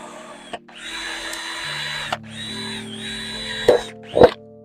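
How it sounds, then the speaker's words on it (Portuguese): An electric drill whirs in several short bursts, drilling drainage holes in the bottom of a plant pot, pausing between them, with a couple of sharp knocks near the end. "Aqui uma furadeira, só colocar no fundo"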